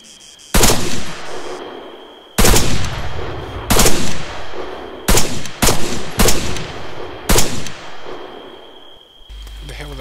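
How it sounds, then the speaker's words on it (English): Loud, sharp gunfire bursts in the ARMA 3 video game during a night battle, coming as several separate volleys spaced a second or two apart against a steady background hum. "Who the hell were they shooting at if not me?"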